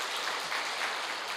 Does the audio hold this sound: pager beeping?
no